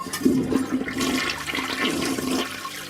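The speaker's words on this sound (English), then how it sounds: "Once again, we made toilet flush sound." A toilet flush sound effect plays alone, a loud swirling rush of water that gurgles and churns steadily for a few seconds without any voices.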